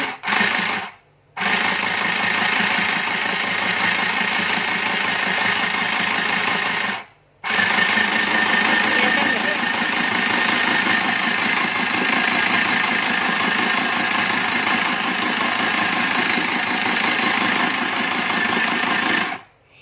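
A portable sewing machine runs loud and close, winding thread onto its bobbin in a steady mechanical whir that stops briefly twice.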